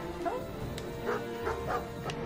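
Robot dog in a video game gives a few short yipping barks and whimpers at intervals, mid-level, over a busy game soundtrack with some voice.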